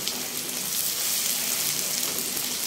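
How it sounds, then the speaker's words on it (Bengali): Masala for a Bengali doi mach yoghurt fish curry, fried with chopped tomato in a pan as half a cup of water goes in, gives a loud, steady, hissing sizzle that never lets up and has no voices over it. "এরপর আমি এর মধ্যে দিয়ে দেবো জল"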